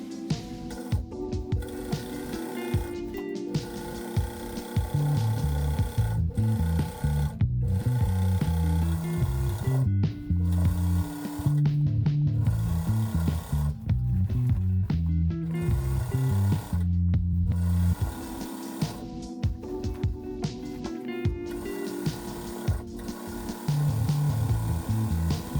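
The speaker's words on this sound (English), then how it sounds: "Sew the entire hem" Sewing machine stitching the hem of a pinafore dress, running in long steady bursts of rhythmic mechanical whirring broken by brief pauses, close and fairly loud throughout.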